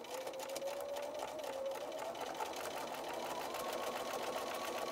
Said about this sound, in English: And continue stitching all the way around until you get to the two clips.